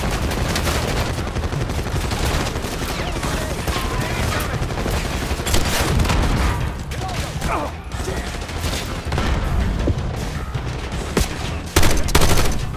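Dense, continuous light machine gun fire in a Call of Duty: Black Ops 6 battle, with overlapping bursts and other gunfire filling the scene, loud and close throughout.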